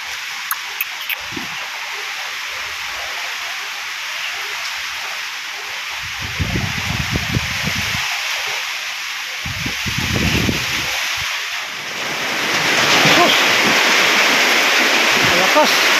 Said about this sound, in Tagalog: Dumating ang bugso-bugso ng ulan at hangin.